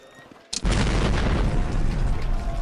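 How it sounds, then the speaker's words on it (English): A loud explosion in Counter-Strike on the Dust2 map during a pro match opens with a sharp bang, then a sustained heavy rumbling roar fills the rest of the moment. "And yet another explosion."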